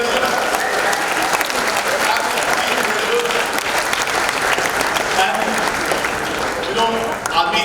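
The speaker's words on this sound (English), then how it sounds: "big round of applause, ladies and gentlemen" Full audience applause at a summit event, a dense, even wash of many hands clapping that holds steady at close range for several seconds.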